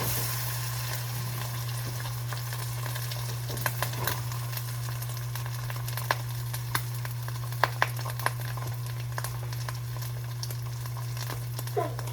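Egg frying in a pan of hot oil, a steady sizzle with scattered sharp pops and crackles throughout, set against a constant low electrical hum.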